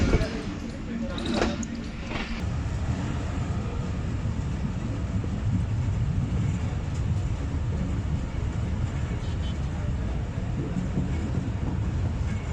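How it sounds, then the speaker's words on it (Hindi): Jaffar Express passenger train slowing on its approach to Yusufwala station: a continuous low rumble of wheels and carriage noise from inside the train, with a few brief knocks near the start, steady and fairly loud throughout. "ट्रेन यूसुफवाला पर अप्रोच कर चुकी है और यहाँ पर भी अगेन काफ़ी स्लो स्पीड हो चुकी है।"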